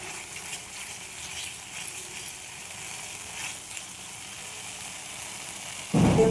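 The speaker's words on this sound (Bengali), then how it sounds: "মশলাটা ভাজা হয়ে গেছে," Spice paste with sugar sizzles steadily in hot oil in a pan while lemon paneer is cooked, a soft even hiss throughout, ending with a sudden louder clatter.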